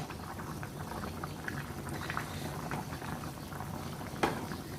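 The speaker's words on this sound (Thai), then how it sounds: "เคี่ยวไปสักห้านาทีแล้วค่ะ ก็มาคนดูต่อเนาะ" A river catfish jungle curry simmers in a pot, a continuous close bubbling and popping of boiling liquid, fairly quiet and steady, with one sharper pop near the end and no talk.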